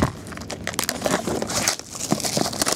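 The sealed plastic wrapper of a trading card box is cut open, with quick close crinkling and crackling of film and a few small tearing sounds over a couple of seconds.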